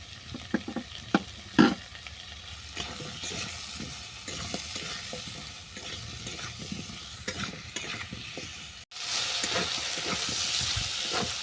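Potatoes and taro frying in a pan with onion, salt and turmeric, a continuous close sizzle broken by repeated scraping stirs, a few sharper knocks early on, and a brighter hiss rising near the end.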